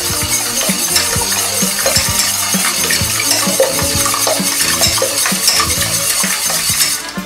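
Eggs beaten with almond, coconut and milk for an almond flan, heard as a fast, steady clatter of a utensil against the bowl, continuous and close for several seconds.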